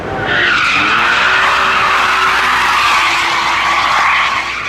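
A BMW E34 M5 skids with a loud, sustained tire squeal that holds for several seconds, close and dominant, with engine noise underneath.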